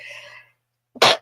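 A single sharp, loud sneeze bursts out after a brief pause that follows a short stretch of speech.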